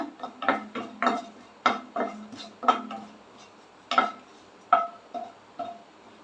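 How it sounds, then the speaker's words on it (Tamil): Cinnamon, cloves and cardamom fry in a pan with bay leaf for chana masala, heard as a string of sharp metallic clinks and scrapes from a utensil stirring the spices, about a dozen irregular hits, close and moderately loud. "பட்டை மூணு லவங்கம் நாலு ஏலக்காய் இதை சேர்த்து கொஞ்சம் நல்லா ஃப்ரை பண்ணிக்கோங்க"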